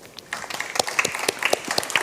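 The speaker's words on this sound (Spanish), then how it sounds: "Le recibimos con un fuerte aplauso." Audience at an international circular economy forum panel applauding a speaker's introduction, scattered claps building after a brief quiet moment, moderately loud and sparse.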